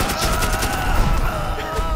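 Rapid machine gun fire in the video game Magicka, a dense continuous rattle of shots throughout, loud and up front.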